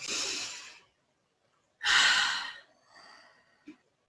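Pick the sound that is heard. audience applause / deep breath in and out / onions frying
deep breath in and out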